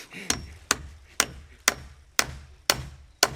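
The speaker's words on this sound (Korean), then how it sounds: "대답은 그렇게 해도 망치질에 힘이 넘치는 김창욱 씨." Seven sharp hammer blows land at an even, steady pace, each a crisp close knock with a short ring.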